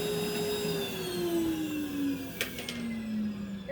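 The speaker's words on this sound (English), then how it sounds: "We're vacuuming this outside here." A vacuum cleaner with a powerhead runs outdoors with a steady loud whine whose pitch slowly drifts downward, plus a few brief knocks as it works.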